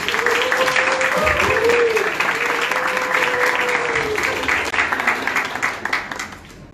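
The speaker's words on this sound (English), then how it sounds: "So a round of applause for our non-women here tonight" A pub audience at an evening science talk claps in a sustained, dense round of applause that fills the room, with a faint tonal whistle or cheer drifting over it before the clapping thins out near the end.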